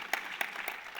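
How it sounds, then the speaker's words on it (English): Audience applause at the Africa HealthTech Summit 2025 general assembly, heard as a brief, faint patter of scattered claps with a few sharper individual claps over a quiet room, short and thin rather than a full ovation. "So first of all, round of applause to all of the private sector who did"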